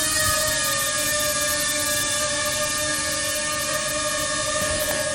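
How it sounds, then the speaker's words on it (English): A small Tello drone flies upward with a steady, close, high-pitched propeller whine, layered with tones, that holds constant throughout with no talk. "We try to make sure the drone flies up enough to make sure we have enough slack."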